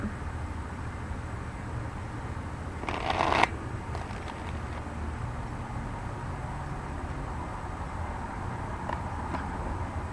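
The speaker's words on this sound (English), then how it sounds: "One more shuffle." A brief riffle of tarot cards being shuffled stands out against steady background hiss, followed by a few faint card taps.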